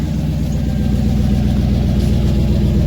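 Turbocharged EFI Ford 460 engine breathing through a used diesel muffler, a steady deep idle rumble with a dense low throb, loud and close throughout with no talking.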